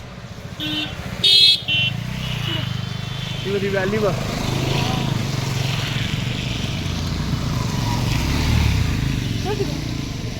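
Cars and other vehicles pass along a rainy mountain ghat road, the Tamhini Ghat route through Mulshi, heard as a steady low rumble of traffic with a brief horn-like burst early on, under continuous nearby talk.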